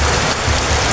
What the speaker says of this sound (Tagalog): Ganito katindi ang ulan dito ngayon.